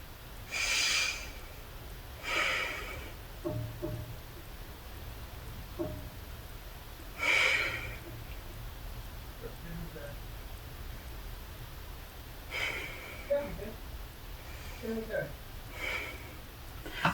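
Deep breathing during a stretching exercise: several slow, audible inhales and exhales through the nose, soft and close, spaced a few seconds apart.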